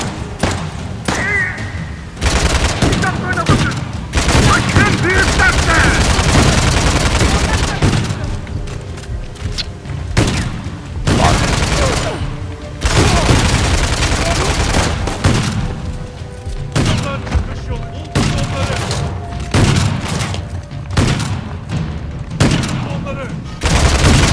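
Gunfire in the action game Uncharted: The Lost Legacy: dense, continuous bursts of shots and heavy thuds fill the scene, loud and sustained, with game audio layered throughout.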